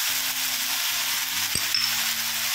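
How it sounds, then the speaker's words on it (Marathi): Finely chopped potato and brinjal sautéing in a pan, a steady broadband sizzle with a faint low hum underneath and a single sharp clink partway through; no voices. "बारीक चिरलेला बटाटा मस्त परतून घेऊया।"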